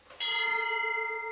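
A single bright bell chime rings out clearly and sustains evenly for about a second with a steady ringing tone, alone and close.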